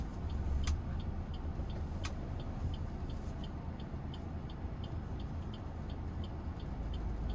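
A manual car pulls away and drives on, heard as a steady low engine and road drone inside the cabin, with a soft regular ticking running throughout.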